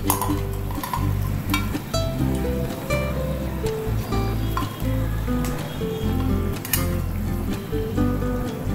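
Fried puti fish dropped into a simmering potato and onion curry, giving a loud, steady sizzle with bubbling and clinking of a utensil throughout, no voices.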